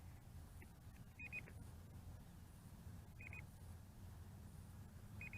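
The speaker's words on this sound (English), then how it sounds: "those couple of beeps that you are hearing is the onboard DVR recording." A few faint, short electronic beeps from a Ruko F11 Pro drone's onboard DVR recording sound at intervals, some in quick pairs, over a low steady background rumble.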